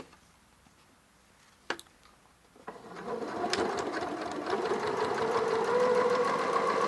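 A sewing machine fitted with an adjustable zipper foot stitches along piping, starting after a couple of sharp clicks and quiet handling, then settling into a steady, fairly loud whirring hum with a rapid needle rhythm.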